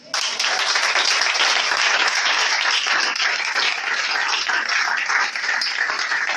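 A church congregation claps for Jesus at an Easter service, a dense, continuous wash of many hands that starts abruptly and holds steady and loud throughout.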